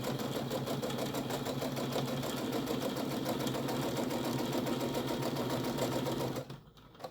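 A sewing machine stitches tote bag fabric in a fast, even mechanical chatter that runs loud and continuous for about six seconds before stopping abruptly, leaving near quiet.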